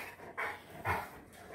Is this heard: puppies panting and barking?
yes